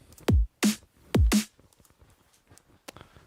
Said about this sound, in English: Typical drum and bass beat always has the snare on the 2 and 4